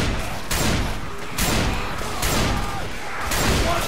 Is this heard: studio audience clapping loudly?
no